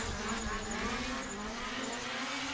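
A Nismo-liveried drift car runs an SR 2.2 engine with a VE Neo head and nitrous during Pro-Am qualifying at IDC Round 4, 2018. It gives a steady, loud engine roar with no break.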